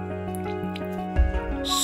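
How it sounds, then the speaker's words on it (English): Lime juice is squeezed onto four egg yolks: a brief, close wet squish and drip over soft background music. "Squeeze lime juice."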